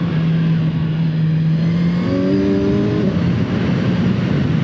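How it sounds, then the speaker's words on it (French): A 2020 Kawasaki Ninja 1000 SX pulls hard under acceleration, its steady engine roar rising in pitch with quick-shifter gear changes, heard close from the rider's position. "On rentre un rapport au quick shifter."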